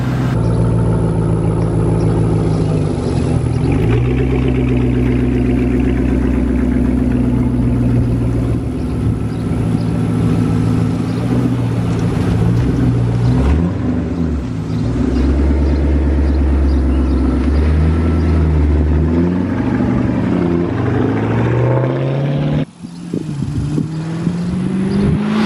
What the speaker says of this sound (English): I'm gonna take it for a little drive